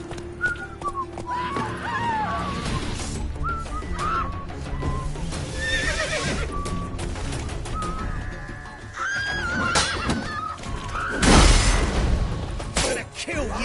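Roach, the horse in The Witcher 3, neighs and whinnies several times in bursts over a rumble of galloping and game effects, with a loud hit near the end.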